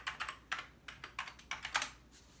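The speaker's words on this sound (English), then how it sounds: "I would just type ADF to disk" Keys tapped on an Amiga 500 computer keyboard as a short command is typed: about a dozen close, clacky keystrokes in an uneven quick rhythm, no voices.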